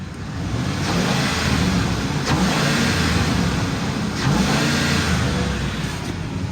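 A 2008 Ford E-350 XL cargo van's 5.4L engine revs up and down in two or three surges over a steady idle, close by and fairly loud.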